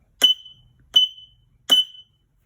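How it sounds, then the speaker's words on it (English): A small buzzer wired to a GelFire TAC target's pulsed hit output gives three short, sharp electronic beeps at even intervals, close and clear against silence. "I can demonstrate the outputs with this little buzzer"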